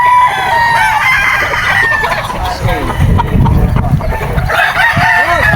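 A Sweater gamecock at a game farm crows loudly and close by, with other roosters crowing and clucking around it. Someone talks over the birds.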